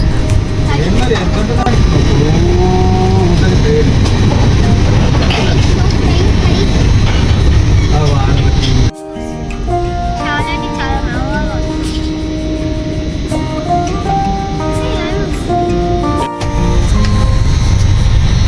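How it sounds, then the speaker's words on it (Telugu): Another train rushes past from aboard a moving passenger train, a loud roaring clatter that cuts off abruptly, leaving the quieter rumble of the carriage with a brief second burst near the end. "అది ఇప్పుడు పోయిన ట్రైన్"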